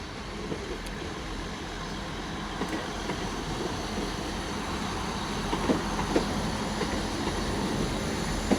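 Two Class 159 diesel units, 159106 and 159001, sit at Exeter St Davids station with a steady engine rumble and hiss, plus occasional faint clanks and squeals and a slight swell toward the end.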